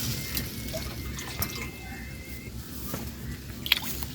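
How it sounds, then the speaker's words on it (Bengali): Water poured from a bowl into a pot of rice for Bengali pulao, a soft continuous pouring and splashing with a few small drips, fairly quiet and close, with no talk. "4 বাটি জল দিলাম।"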